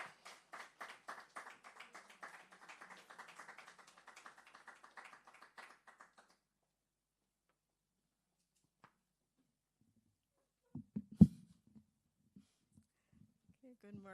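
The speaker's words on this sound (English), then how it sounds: "So you have to give her a big round of applause as she comes forward." Scattered clapping from an audience at an awards ceremony fades out after several seconds, followed by quiet with a few soft bumps and taps.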